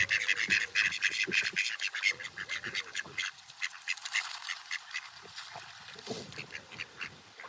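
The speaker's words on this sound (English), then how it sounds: "Yeah, you gotta be a tough duck girl." Ducks quack over and over on a wet morning, a busy cluster of close, loud calls that overlap with a few brief lulls. No one speaks.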